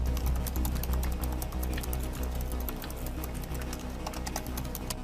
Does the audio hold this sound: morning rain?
no